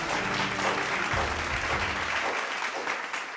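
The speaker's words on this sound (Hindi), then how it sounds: "तो जोरदार तालियों से शुरुआत करते हैं" Loud, dense applause from an audience at a virtual awards event, steady and sustained throughout with a low rumbling layer underneath for the first part.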